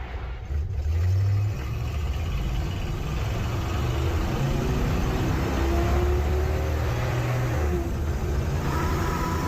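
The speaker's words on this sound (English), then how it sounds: "So that's where it just downshifted it right back down." A car engine revs in low range and then drops back as the transmission downshifts, with rising and falling engine tones over a steady rumble of road and cabin noise.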